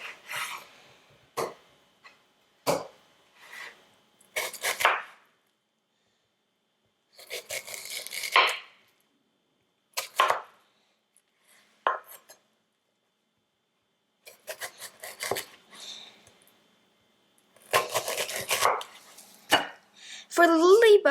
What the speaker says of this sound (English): I'm going to cut them into cubes about the same size